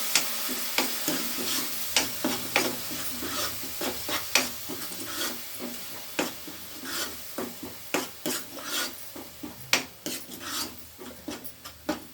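Masala for masala puri frying in a pan while a spatula scrapes and stirs it, rhythmic rasping strokes over a soft sizzle, close and fairly loud, repeating every half second or so without any talking.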